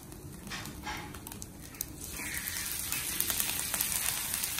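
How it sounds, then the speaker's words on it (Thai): Eggs stir-fry in a large pan at a Buddhist temple in Belgium, giving off a continuous close sizzle and crackle that grows slightly louder toward the end, with no talking. "ได้ผัดไข่"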